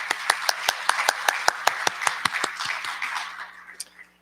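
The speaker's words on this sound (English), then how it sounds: "Nice big round of applause for Kayla Marr." A small group at a school board meeting claps for a student of the month, sparse distinct hand claps in an irregular rhythm that thin out and fade after a few seconds.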